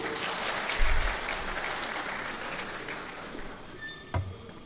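A crowd at a political speech in Punjab claps in a dense, sustained burst of applause that stays strong throughout and tapers slightly toward the end.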